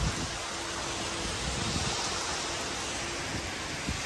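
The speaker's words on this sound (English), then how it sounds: "It's raining in Rome." Rain falling in Rome makes a dense, steady hiss of noise with faint pattering, continuous and fairly close, with no one speaking.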